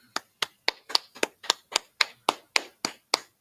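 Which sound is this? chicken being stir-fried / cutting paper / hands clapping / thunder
hands clapping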